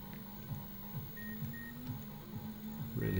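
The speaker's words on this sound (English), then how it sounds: "So there's some sort of annoying beeping going on in the background." Steady electronic beeping keeps repeating in the background of a Sony PlayStation racing game, a short tone pulsing under a constant low engine drone with no talk over it.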